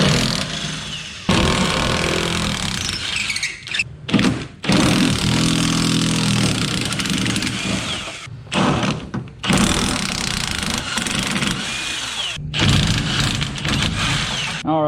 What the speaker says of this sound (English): let me get to unbolting these body mount bolts